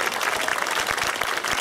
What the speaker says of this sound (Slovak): Ďakujem pekne, pán Milan Lasica, váš potlesk.